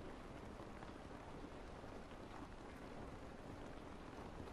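Steady, quiet rain hiss fills a scene in The Last of Us video game, an even, unbroken wash of falling water with no distinct drops or pauses.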